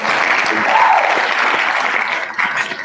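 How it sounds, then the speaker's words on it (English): Studio audience applause on a radio show, a loud, steady wash of many hands clapping that continues without a break for the whole stretch, with no talk over it. "Those are great applause"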